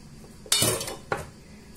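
Minced meat dropped into a salad bowl for a stuffing, two soft wet thuds with a clink of a utensil against the bowl, close and fairly loud, about half a second apart.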